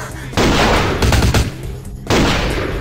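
Gunfire in Vampire: The Masquerade – Bloodlines comes as loud, close bursts of rapid shots, with three bursts separated by brief gaps.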